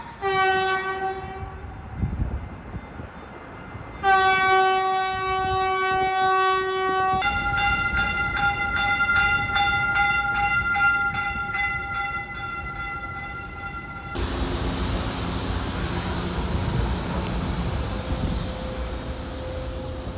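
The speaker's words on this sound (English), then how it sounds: "I see our next train approaching." A commuter train approaching a station in the Dallas-Fort Worth area sounds its horn in long steady blasts, then a rushing rumble swells as it nears and passes, loud and close.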